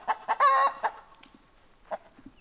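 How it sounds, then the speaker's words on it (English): Roosters on a farm, with a sharp crow near the start followed by scattered short clucks and calls, fairly close and alone. "We got too many roosters around here."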